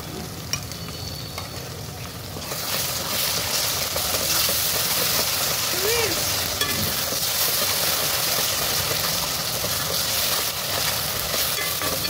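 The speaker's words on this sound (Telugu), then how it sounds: "పచ్చివాసన పోయే వరకు కొద్దిసేపు ఫ్రై చేసుకొని" Ginger garlic paste frying in a pan with softened tomatoes for chicken pulao, a steady loud sizzle that jumps up sharply after a couple of seconds and then holds as a dense crackling hiss, with no voices.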